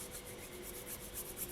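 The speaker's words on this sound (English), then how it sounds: "Then just gently brush it from side to side, getting rid of any excess pastels" A soft brush sweeps side to side over polymer clay, clearing excess pastel dust in a faint, rhythmic rubbing with quick, regular strokes.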